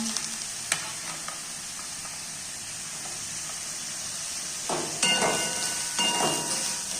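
Green beans and capsicum stir-fried in a pan for fried rice sizzle steadily, with clattering stirs and scrapes that grow louder toward the end.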